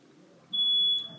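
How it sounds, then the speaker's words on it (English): A single high electronic beep from a smoke alarm, held steady for about half a second over a quiet room background. "A smoke alarm's going off."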